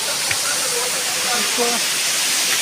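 Steady rushing water hisses without a break from a small waterfall nearby, with faint voices barely audible underneath.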